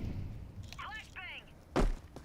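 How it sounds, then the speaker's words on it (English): A flashbang grenade lands in a competitive shooter match, a short sharp thud-like burst near the end, following a voice calling out. "Throwing flashbang."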